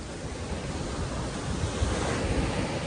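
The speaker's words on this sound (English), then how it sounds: "it is so loud with these waves or whatever" Loud ocean surf rolling onto a beach, a continuous roaring wash of waves with wind buffeting the microphone, no speech.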